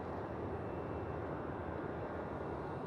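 A steady, loud jet-engine roar from an airplane taking off at Vienna International Airport, heard continuously from the visitors terrace without any talk.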